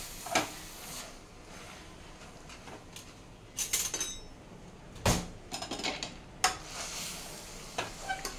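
Amaranth leaf curry is stirred in a pan, with sporadic sharp metallic clinks and scrapes from the utensil over a faint background sizzle.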